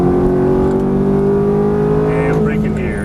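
Ferrari F430 engine pulling hard on a race track, a loud steady sustained drone rising gently under throttle, close and continuous with a voice talking over it.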